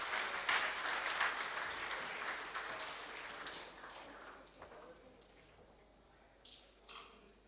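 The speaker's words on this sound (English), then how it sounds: "Let's give a round of applause to Lisa Kutsia" Diners at a rugby referees' awards dinner applaud together, the clapping strong at first and gradually thinning out, leaving a few isolated claps and a hushed room toward the end.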